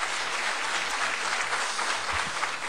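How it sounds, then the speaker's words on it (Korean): A church congregation applauds together to welcome newcomers, dense sustained clapping filling the room evenly throughout, close and loud with no voices over it. "우리 박수로 환영해 드립시다."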